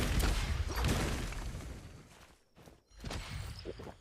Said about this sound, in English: No, some cannon shots here